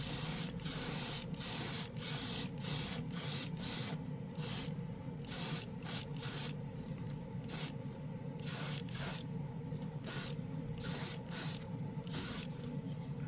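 A budget airbrush with a real wood handle sprays paint onto a Bronco model kit in many short, close hissing bursts with brief pauses between them.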